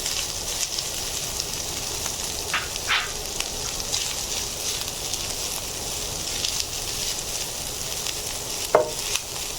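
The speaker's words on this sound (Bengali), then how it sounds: "আমি চিকেনটাও এক মিনিট মতো ভেজে নেবো" Chicken pieces fry with browned onions in a pan, giving a steady sizzle with occasional stirring scrapes and a sharper clink near the end, with no voices.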